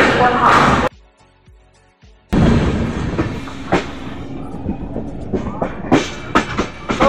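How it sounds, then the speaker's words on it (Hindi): An LHB Barauni Gondia Express train departs Ghazipur City station, heard from inside a general coach: a loud rumble, a sudden near-silent gap, then rattling and rhythmic clanks and thuds as the coaches roll, with some talk. "पूरे 5 मिनट होल्ड के बाद हमारी ट्रेन निकल चुकी है गाजीपुर सिटी से।"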